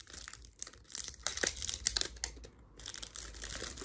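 Makeup product packaging being opened by hand, with close crinkling, tearing and crushing of wrapping in uneven bursts over a few seconds, no talking.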